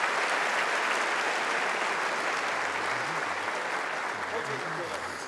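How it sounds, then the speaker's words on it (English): Audience at a snooker trick shot show in Budapest gives a round of applause, steady dense clapping that slowly fades, with a voice talking faintly underneath. "Big round of applause, yes."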